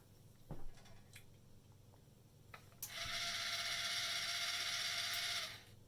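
A modified Dyson powerhead gear drive, fitted to work with a DC35 vacuum, starting up and running: a steady, loud ratcheting whir of gears for a few seconds after some quiet clicks and handling noises.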